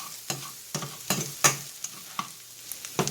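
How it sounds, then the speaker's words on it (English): Shrimp being stirred with seasoning in a sizzling pan, a spoon scraping the metal in repeated sharp strokes roughly every half second over a low, steady frying hiss. "Get this stirred up a little."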